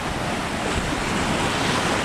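Rough sea waves and high wind, a continuous loud roar of surf mixed with gusty wind buffeting the microphone, no voices.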